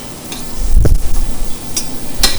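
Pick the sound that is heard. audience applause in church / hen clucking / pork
pork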